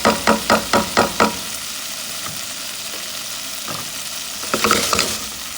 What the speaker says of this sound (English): we want to saute that in the machine